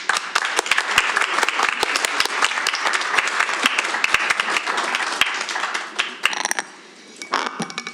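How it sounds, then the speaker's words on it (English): Applause at a school board meeting: brisk, crisp clapping from a room of people, sustained for several seconds before dwindling to a few scattered claps near the end. "Another round of applause, please."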